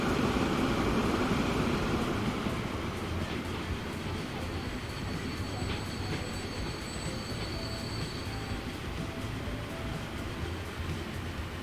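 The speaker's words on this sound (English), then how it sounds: "Another lumber train." A lumber train in the game Transport Fever 2 rolls by with steady rail rumble and clatter, and thin wheel squeals rise partway through.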